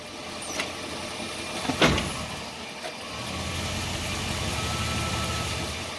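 Jeep engine running with the 45RFE/42RFE automatic transmission shifted into drive, slipping with low line pressure; a steady mid-pitched idle hum with a brief clunk or knock early on, then a settled drone.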